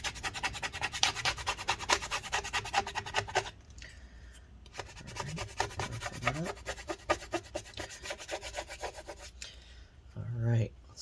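Steady rubbing and scraping as shiny battery adhesive inside a 2015 13-inch MacBook Pro A1502 is roughened up, rapid close scratching strokes with a short pause and a brief thump at the end.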